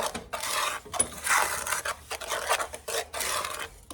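Cornstarch and sugar being stirred together in a pan, giving repeated scraping, rasping strokes in uneven bursts, close and moderately loud with no talking.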